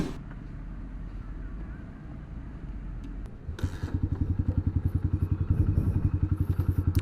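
A Honda Verza 150 motorcycle fitted with double risers idles and then pulls away, its engine firing in a fast, regular pulsing thump that grows louder as it rides.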